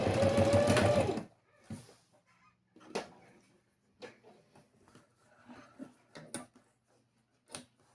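Sewing machine running a short burst while stitching a fabric seam for a small box, loud and close for about a second, then only faint scattered taps and handling clicks.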